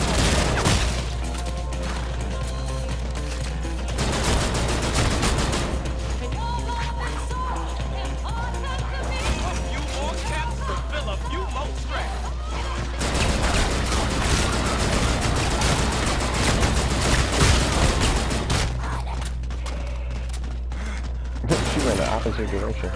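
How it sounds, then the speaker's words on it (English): Dense, loud gunfire from the video game Call of Duty: Infinite Warfare, rapid bursts and booms layered continuously over a steady low rumble, with brief quieter gaps. "Trying to fire a bullet."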